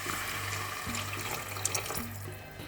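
Broth is poured into a pot of crushed tomatoes and onions: a steady stream of liquid runs and splashes close by for a few seconds, with a low gurgling tone underneath and no speech.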